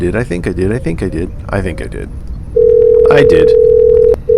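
A steady telephone dial tone switches on as a phone line is turned on during a live broadcast, following a stretch of talk, holding loud and continuous with a brief break near the end.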